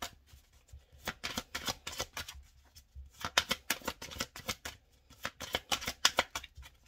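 Tarot cards are shuffled by hand in quick riffling bursts with brief pauses between them, close up and fairly crisp, with no voices.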